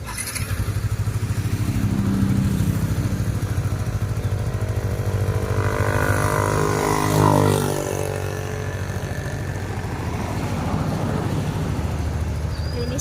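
A motorcycle engine runs steadily while riding on a land trip from Dapitan to Dumaguete, a loud continuous low rumble with wind noise that rises briefly midway, then settles.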